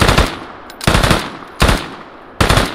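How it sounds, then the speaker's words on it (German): Gunfire in the video game Deadside: four loud, close automatic bursts of several rapid shots each, separated by short pauses, with no talking over them. "Oh, da hat er geschossen."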